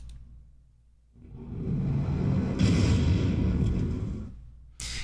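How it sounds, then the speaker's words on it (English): A depth charge detonates underwater as a cinematic effect: a deep, muffled boom swells into a long rolling rumble lasting several seconds, then cuts off abruptly into quiet. "You have these depth charges, you have this big explosion"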